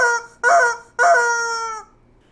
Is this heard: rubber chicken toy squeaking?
yes